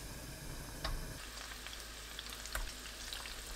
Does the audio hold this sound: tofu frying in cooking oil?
yes